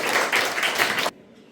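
A school audience claps for students, a loud, dense patter of many hands that stops abruptly, leaving near silence.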